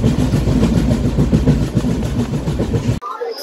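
Kanchankanya Express pulling out of Bagdogra station, heard from on board as a loud, close rumble with rhythmic clattering of wheels over rail joints, then cutting abruptly to quiet near the end.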